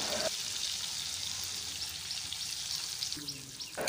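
Chopped onion frying with turmeric, salt and chili powder alongside dry fish in a pan, a steady close sizzle that runs throughout with faint stirring scrapes.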